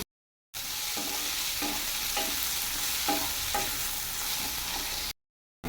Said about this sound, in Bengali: সবজিটা আরেকটু ভাজা ভাজা করে নেব।